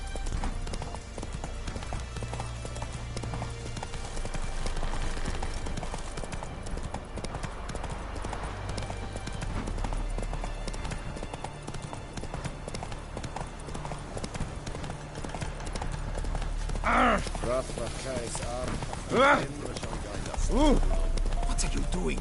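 Roach the horse trotting in The Witcher 3: Wild Hunt, steady rhythmic clip-clop of hooves running throughout at moderate loudness, with voices talking over it near the end.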